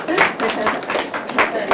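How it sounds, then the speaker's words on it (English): Scattered clapping from a small audience at a career talk, a brief burst of claps under and around voices. "I think we all want to clap for all these responses."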